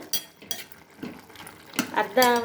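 Vegetables being stirred in a pan after salting, a few scattered scrapes and clinks of a utensil against metal with a light sizzle, short and fairly quiet, ending in a brief tonal clang.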